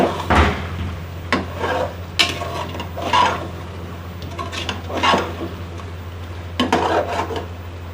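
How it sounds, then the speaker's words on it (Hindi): Beef liver (kaleji) stirred in ghee in a pan, a spoon scraping and clinking against the metal repeatedly over a steady low frying sizzle, close and fairly loud. "कलेजी हमारी जो है ना तकरीबन भुनने वाली है। इसने घी जो है ना छोड़ना शुरू कर दिया।"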